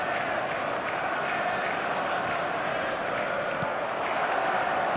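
A stadium crowd in the football game eFootball 2024 murmurs and applauds in a steady, distant wash of noise, with a few faint sharp accents rising above the constant roar.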